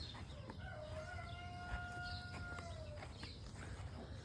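A rooster crows once in a long, clear call from inside a backyard chicken coop during morning chores on a pasture farm, with faint hen clucking and steady background noise around it.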